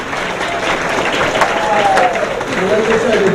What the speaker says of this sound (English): Another round of applause for Nancy.